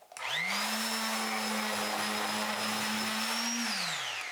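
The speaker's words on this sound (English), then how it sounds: "let's take a look at this Bauer sander and see how well it works" A Bauer random orbit sander with dust collection spins up, holds a loud steady whine with an airy roar for several seconds, then winds down, close-up with no speech.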